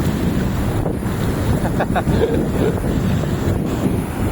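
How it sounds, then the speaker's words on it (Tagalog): Early-morning surf at Bagasbas Beach, Daet, Camarines Norte, Philippines: rushing waves wash continuously on the shore, mixed with heavy wind buffeting the microphone. "Tuloy-tuloy yung alon."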